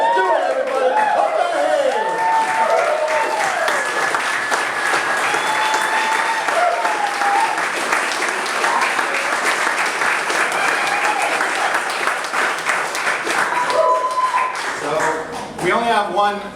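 An audience at a book launch event in Austin, Texas claps and cheers, a dense sustained round of applause with scattered whoops and voices mixed in, fading out near the end as a speaker begins talking.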